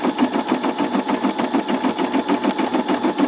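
A Brother SE625 embroidery machine stitches a satin fill in a fast, steady rhythmic whir of needle strokes, close and continuous throughout with no talking.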